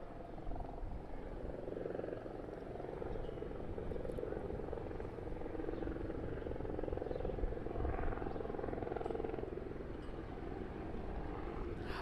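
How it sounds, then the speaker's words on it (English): A police helicopter circles over a school, a steady rotor whir and engine drone heard from overhead at moderate distance, continuous throughout with faint background noise. "DPS also has their chopper flying above the area, circling the school"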